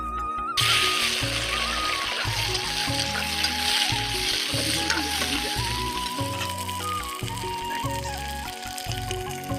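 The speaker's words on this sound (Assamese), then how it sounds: "এই আলুখিনি ফ্ৰাই কৰি লৈছোঁ" Potatoes fry in a kadai at an outdoor picnic, giving a steady, close sizzle that runs throughout beneath rhythmic background music.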